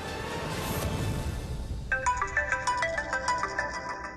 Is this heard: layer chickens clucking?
no